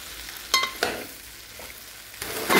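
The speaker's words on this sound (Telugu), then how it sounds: "స్టవ్ ఫ్లేమ్ ఎక్కువనే పెట్టేసుకొని హైలోనే పెట్టుకొని బాగా కలుపుతూ ఉండాలి" Okra stirred briskly in a hot pan over a high flame, with a steady sizzle of frying broken by a few sharp scraping stirs and clatters of the spoon, close and fairly loud.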